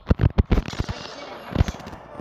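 Rapid sniper rifle shots in the mobile shooting game Sniper Fury, a burst of loud, close cracks in quick succession, then a pause and one more report.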